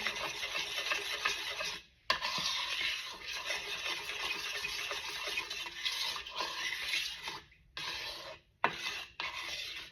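Baking soda is mixed into curdled milk in a bowl for vegan cornbread, a steady, close rasping whisk that runs almost continuously with a few brief pauses.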